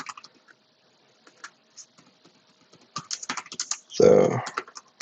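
Typing on a computer keyboard, sparse clicks that quicken into a busy run of close keystrokes, with a brief burst of talk in the middle.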